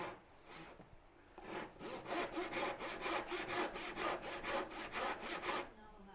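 Hand saw cutting through wood for a Shaker cupboard, with the blade dull and in need of sharpening: a close, rhythmic series of rasping back-and-forth strokes running steadily for several seconds.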